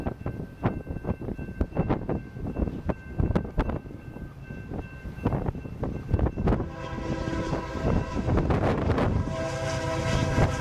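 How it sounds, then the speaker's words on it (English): A westbound crude oil freight train pulls out of Lethbridge, with rhythmic clanks and thumps of railcars rolling by and a steady rumble building toward the end, heard from trackside. "Westbound, B or UP slash CP, crude oil, loads, 569, leaving Lethbridge."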